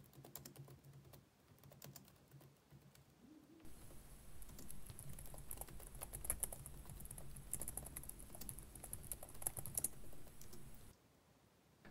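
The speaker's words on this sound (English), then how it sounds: "Type in this command." Rapid typing on a computer keyboard while entering a command during a Linux install, a dense run of small clicking keystrokes for several seconds, fairly faint and close, with quieter pauses before and after.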